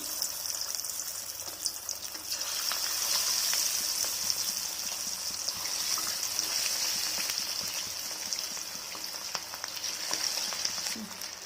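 Medium-sized chicken pakoda pieces frying in hot oil in a pan, a dense continuous sizzle with scattered pops and crackles, close and steady throughout, with no talking.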